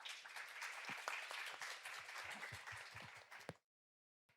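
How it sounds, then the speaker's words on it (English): An audience at an AI symposium gives a steady round of applause with many individual claps audible. It lasts about three and a half seconds and then cuts off abruptly into silence. "Please welcome them with big rounds of applause."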